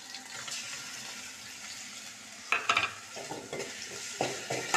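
Ginger garlic paste frying with onions in a pan for a green chicken curry, a soft continuous sizzle with scraping stirring strokes growing louder toward the end.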